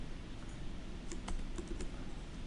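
Faint, sparse clicks of typing on a computer keyboard beneath a steady background hiss, only a few keystrokes clustered near the middle, with no talking.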